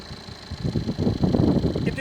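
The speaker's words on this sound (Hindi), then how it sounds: "तो नॉइज़ तो है डीजल इंजन वाली, अगर आप बाहर से भी सुनोगे तो वो आपको नॉइज़ महसूस होती है" Tata Curvv diesel engine running, a steady low mechanical rumble with pulsing, close and moderately loud, with no other sound over it.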